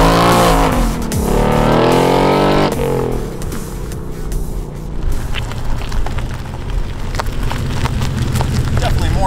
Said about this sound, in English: let's see how effective launch control is with this manual transmission.